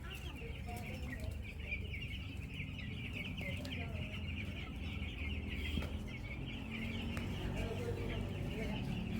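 Inside a large poultry farm house fitted with fans and lights, chickens and chicks cluck and peep continuously over a steady background hum, close and dense, with no distinct speech.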